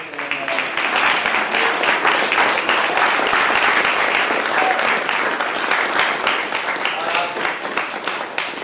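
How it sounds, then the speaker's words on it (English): An audience claps loudly and continuously after a mock debate at a community event, a thick, even roar of applause that holds strong throughout with a faint murmur of voices underneath. "Ladies and gentlemen, that is the end of our mock debate. Please give a round of applause."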